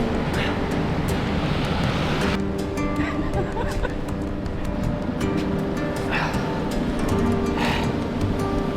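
Ocean surf on an Australian beach rolls as a continuous broadband wash near a car stuck in the sand, loud and steady, with occasional rushing swells and faint muffled voices.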